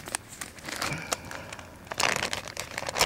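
Plastic bag crinkles and rustles up close in quiet, irregular bursts of crackling as it is handled, growing busier toward the end.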